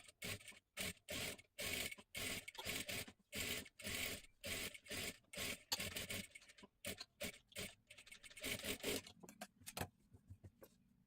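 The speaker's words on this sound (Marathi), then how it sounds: "इथे गळ्याला एकदम कडेकडेला आपल्याला शिलाई मारून घ्यायची आहे" A sewing machine stitches along the edge of a blouse neckline in quick bursts with short pauses between them, close and clear, then slows and stops near the end.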